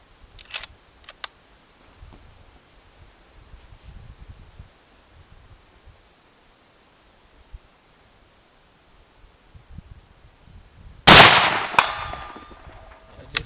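Sauer 100 Ceratech rifle fired at a 200-yard target, a single loud close shot after a long quiet stretch of faint outdoor ambience, with a few small clicks earlier.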